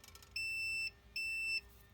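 Electrical tester on a vintage ignition system with points, giving two clear high-pitched electronic beeps, each about half a second long, with a short gap between them, close and alone.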